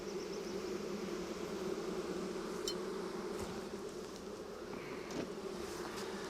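A hive of honeybees hums steadily and close by as brood frames are moved into it, a continuous buzzing drone with a few faint clicks of frames being handled.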